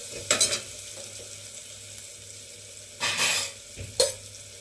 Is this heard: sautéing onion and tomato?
yes